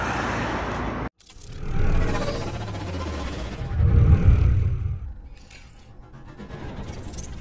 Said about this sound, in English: These are the cars.